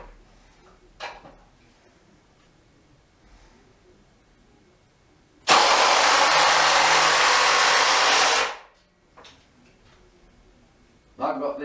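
A Makita DTP141 impact driver drives screws in one loud, dense burst lasting about three seconds, preceded and followed by quiet handling knocks and clicks nearby.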